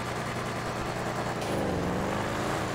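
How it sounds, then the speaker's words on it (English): Cars roar past in snowy traffic during a GTA Online drift session, a dense, loud, continuous engine rush with a rising swell of a passing vehicle midway. "you can just hear the cars just blasting, just roaring through"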